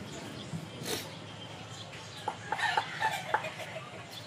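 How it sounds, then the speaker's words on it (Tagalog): Chickens cluck in short, sharp bursts over a low background murmur, with a few louder calls clustered toward the end. "Bata-bata manok niyan."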